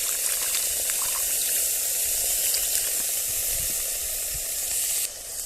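Water splashes into a sizzling paste of coriander leaves, mustard and green chilli in a hot pan for an eggplant gravy, a steady loud hiss and bubbling that holds throughout and drops slightly at the end.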